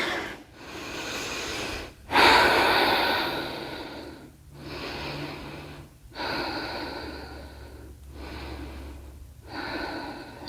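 Slow, deep breaths during a yoga pose, heard close and alone: long airy inhales and exhales alternating with brief pauses, roughly five breath cycles in an even rhythm.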